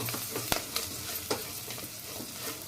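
A spoon scrapes and stirs ground spices, cumin powder and garam masala frying in a pan for egg curry, with sharp intermittent scrapes over a continuous close sizzle and no speech.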